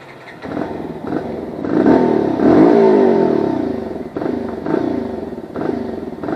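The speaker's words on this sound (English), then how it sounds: "To abhi exhaust sound sunenge." A motorcycle with a cheap free-flow exhaust modification, a hole made in the exhaust, revs loudly and close by, its deep rattling exhaust note swelling through several throttle blips, with a sustained rise in the middle.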